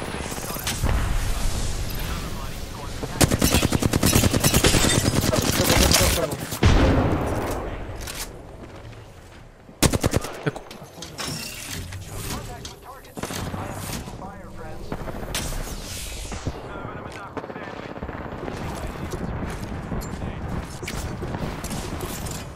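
Enemy team gunfire in Apex Legends, loud sustained automatic bursts with sharp cracks and mechanical clatter, dipping then resuming closer, while a player talks over the fight.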